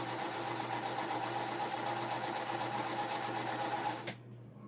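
An early-1980s Singer sewing machine runs at a steady, fast mechanical whir close up, then stops abruptly near the end, leaving a faint hum.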